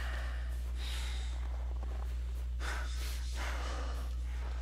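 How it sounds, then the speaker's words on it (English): Heavy snorting and gasping breaths from a monster close by in the horror video game Kholat, several rough exhalations in irregular bursts over a steady low hum, with no talk. "Oh god, it's right on me! I can hear it breathing!"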